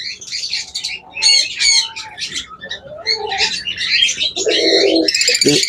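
Several caged pet birds chirp, coo and squawk in quick, overlapping bursts, close by and fairly loud, with a harsher rapid chatter toward the end.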